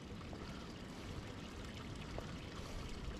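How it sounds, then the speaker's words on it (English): Water runs down a mountainside beside the Ouachita Trail, a steady, close rushing wash with no pauses and no voices. "It's water running down the side of the mountain."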